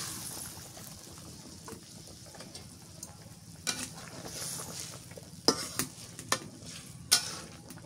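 Pangas fish added to a sizzling curry in a pan, a low steady sizzle followed by several sharp spoon or utensil knocks in the second half, no voices.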